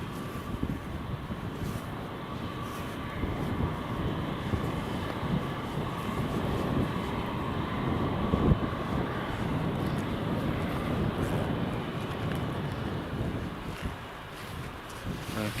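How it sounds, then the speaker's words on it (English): British Airways airliner departing from Newcastle Airport: a steady, broad jet roar heard from a distance, rising slightly and holding without breaks, blended with wind noise on the microphone. "Right, British Airways is lining up now to depart."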